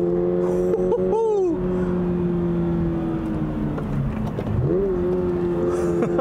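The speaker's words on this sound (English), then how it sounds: "the engine still loves to rev" A 2022 Toyota GR 86 sports car engine revs loudly and steadily, its pitch climbing and falling through several sweeps, with a short drop near the end before it rises again.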